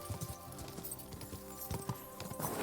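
Hooves clip-clop in a quick galloping rhythm as a horse runs in Kingdom Come Deliverance 2, steady and moderately close over a faint game soundtrack.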